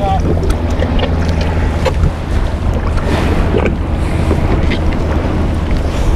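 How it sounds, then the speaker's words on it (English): Strong wind buffets a fishing boat out at sea, a loud, constant roar of gusts and microphone rumble mixed with water wash that never lets up. "this wind is getting a little bit stronger"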